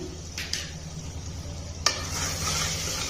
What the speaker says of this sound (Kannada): ನಾನು ರುಬ್ಬಿಟ್ಕೊಂಡಿದ್ನೆಲ್ಲ ಈರುಳ್ಳಿ ಬೆಳ್ಳುಳ್ಳಿ ಶುಂಠಿ ಪೇಸ್ಟು, ಇವಾಗ ಅದನ್ನು ಹಾಕ್ತೀನಿ